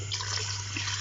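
A steady wash of water pouring and splashing into a cooking pot for aloo gosht, continuous and fairly soft over a low hum.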